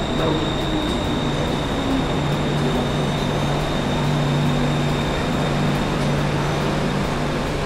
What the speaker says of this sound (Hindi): So now we will be taking our first train.